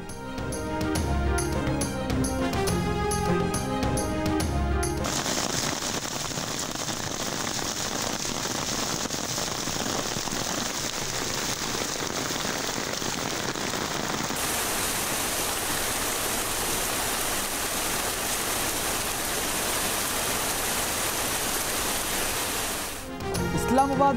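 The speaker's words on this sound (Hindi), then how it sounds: "इस्लामाबाद में ज़ालाबारी और तेज बारिश" Heavy rain with hail pours down in Islamabad as a dense, steady roar of drumming and hissing water, loud and continuous, framed briefly by other sounds at the start and end.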